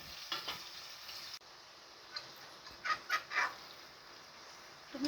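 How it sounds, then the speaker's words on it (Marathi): Onion, tomato and curry leaves sauté in a pan for a village-style chicken curry: a faint, soft sizzle broken by a few short scraping stirs, with a brief drop in the hiss partway through. "आपल्याला हा कांदा टोमॅटो आणि कढीपत्ता चांगल्या प्रकारे परतून घ्यायचा आहे"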